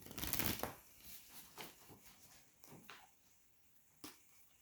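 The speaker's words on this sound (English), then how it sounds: "I need 2 more shuffles." A deck of cards is shuffled during a tarot-style reading: a loud riffle burst at the start, then several softer riffles and snaps spaced out, close and alone without talk.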